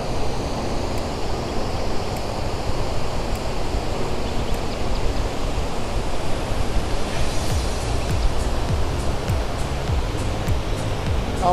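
Heavy water overflowing the top of Sasoi dam near Jamnagar, Gujarat, a steady broadband roar like a waterfall that holds an even, loud level throughout with no talk over it.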